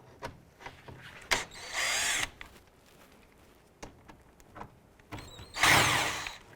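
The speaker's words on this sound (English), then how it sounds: "We're going to use a T25 Torx bit to remove this screw and this screw on the driver's side upper grille panel." A power drill fitted with a T25 Torx bit whirs in two short bursts to back out upper grille panel screws on a 2011-2018 Volkswagen Jetta, with clicks and handling knocks of the screws and parts between the runs.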